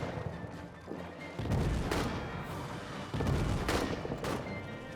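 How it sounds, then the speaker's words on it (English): WW1 trench-warfare artillery in a video game: two heavy booms land in turn, each a broad rumbling blast that swells and lingers, with quieter distant thumps between them. "Artillery is going in."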